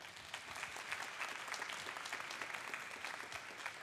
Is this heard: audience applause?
yes